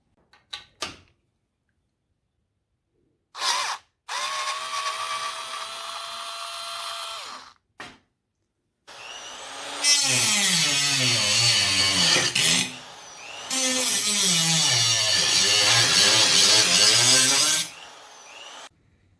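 A power tool cuts sections off the grill of a Jeep YJ, with short whining bursts followed by long loud grinding, screeching cuts whose pitch rises and falls as the blade bites the metal.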